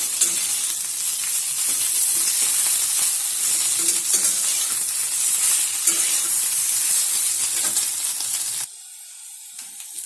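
Ginger paste fries loudly in a pan for Bengali shukto, a dense hiss with faint stirring underneath. It cuts off sharply near the end to a much quieter background, with no speech.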